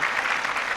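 Audience applause: a dense, steady wash of clapping that holds at one level for under a second, with no voices over it.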